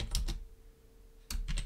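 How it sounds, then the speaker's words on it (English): Bursts of computer keyboard typing while entering text into a PowerPoint text box, a quick cluster of keystrokes, a quiet pause, then another close-up flurry of clicks. "I was typing in it."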